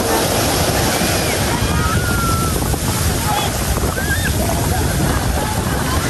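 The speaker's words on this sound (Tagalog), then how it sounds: "Grabe, lalaki ng alon." Big sea waves churn around a banana boat ride at a beach resort, a dense, loud wash of water and wind buffeting, with faint shouting voices from riders mixed in.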